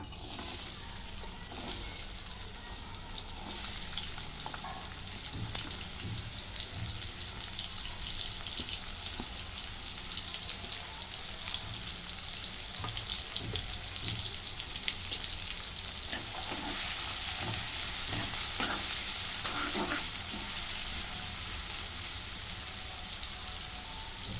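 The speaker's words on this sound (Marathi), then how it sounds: "कांदा चांगला लालसर होईपर्यंत भाजून घेतो" Chopped onion frying in a pan gives a steady, close sizzle with soft stirring scrapes throughout, the hiss growing brighter and louder toward the latter part.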